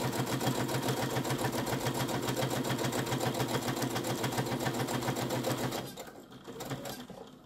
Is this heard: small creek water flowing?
no